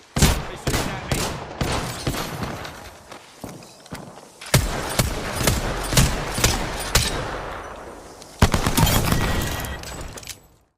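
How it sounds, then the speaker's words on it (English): Gunfire in Grand Theft Auto 5 Online, loud bursts of rapid shots and single cracks in clusters, with footsteps and scuffling between volleys and a heavy burst near the end. "They shooting at me."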